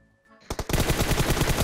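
Rapid automatic gunfire in PUBG Mobile, a loud burst of closely spaced shots that starts after a short quiet lead-in and keeps going steadily to the end.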